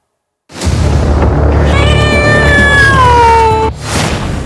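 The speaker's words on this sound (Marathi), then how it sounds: "पुण्यात एकाच फ्लॅटमध्ये साडेतीनशे मांजर" A cat from a Pune flat crowded with around 350 cats lets out a loud, long, drawn-out meow that bends downward in pitch, close and alone, after a brief silence.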